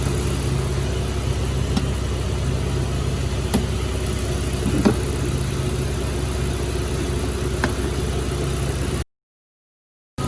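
A car engine idling steadily after starting during an oil change, a constant low mechanical hum with faint ticks, close and unbroken until it cuts off near the end.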